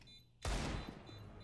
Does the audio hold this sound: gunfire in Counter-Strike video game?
yes